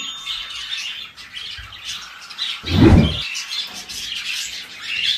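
Cockatiels in breeding pots chirping and squawking close by, bright repeated calls throughout with a brief muffled rustle or thump in the middle.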